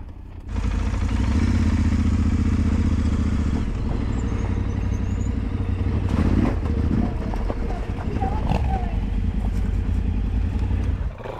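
A Yamaha Tenere 700 engine revs hard on a hard enduro track, a loud sustained roar running nearly the whole clip with rising and falling throttle surges, voices calling out over it.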